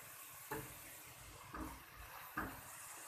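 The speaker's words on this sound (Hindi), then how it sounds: "तो मैं इसको करूँगी 2 से 3 मिनट के लिए फ्राई" Aloo gosht frying over high heat in a pan, a soft steady sizzle with a few brief scrapes or stirs as a spoon moves through the meat and potatoes.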